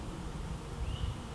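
Honeybees in a top bar beehive make a low, steady buzzing hum, close and continuous, with a soft background drone and no voices.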